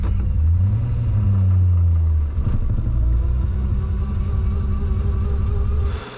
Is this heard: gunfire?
no